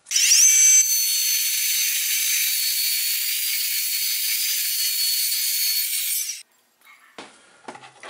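A 5 mm thick metal piece is cut to 80 mm length with a steady, loud, hissing grind lasting about six seconds. A few faint scrapes and knocks follow after it stops.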